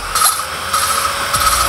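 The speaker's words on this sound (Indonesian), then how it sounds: "kebetulan saya pakai ini bor yang dicas ya teman-teman, yang 12 volt" A cordless 12-volt drill spins a valve lapping tool while grinding an engine valve into its seat, giving a steady close whirring and rubbing hum with slight rises in pitch throughout.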